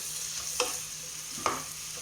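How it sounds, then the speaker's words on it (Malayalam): Ginger garlic paste is sautéed in a pan for butter chicken. It gives a soft, steady sizzle with two brief scrapes of stirring, heard close and quiet, with no talk. "ഇനി അതിൻ്റെ പച്ചമണം പോകുന്നവരെ ഒന്ന് വഴറ്റി കൊടുക്കുക"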